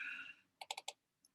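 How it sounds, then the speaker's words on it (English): Four quick keystrokes on a computer keyboard, close and crisp, followed by one faint lighter click after a pause; no voices. "I'm going to type Y, and I'm literally typing just the 1."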